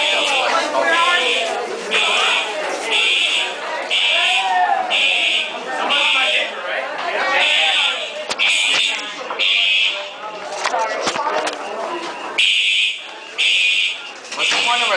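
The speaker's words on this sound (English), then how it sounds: "It's just dumb shits that are setting off their alarm." A university dormitory fire alarm at St. John's sounds at midnight, a loud regular buzzing beep repeating about once a second for the whole stretch while people talk and shout nearby.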